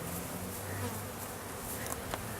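Honeybees swarm around a top bar hive during installation, a dense, continuous buzzing drone that stays close and steady throughout, with no voices over it.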